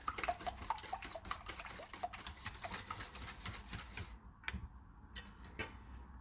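Cream whisked in a bowl that is too small makes rapid, light, rhythmic ticking and scraping of the whisk against the bowl, close but quiet, with brief pauses near the end and no voices.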